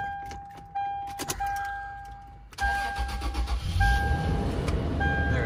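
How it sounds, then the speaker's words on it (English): Keys jingle in the cabin of a 2006 Toyota 4Runner with 174,000 miles, with electronic chime tones sounding. Then the engine cranks briefly and catches into a running idle, close by and moderately loud. "so let's turn the car on"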